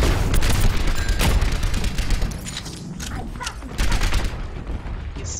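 Junkrat's grenades lobbed and bursting in Overwatch, a dense run of loud booms and explosive pops that overlap continuously with battle noise throughout.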